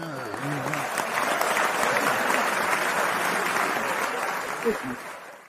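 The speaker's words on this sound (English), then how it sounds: "Can I get a round of applause at least?" A small group on a podcast applauds for several seconds, steady clapping with a brief voice at the start and a short vocal burst near the end.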